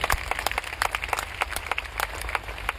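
Crowd applause at a direct selling meeting, dense and steady clapping from many hands that holds at an even level throughout, with no talk on top.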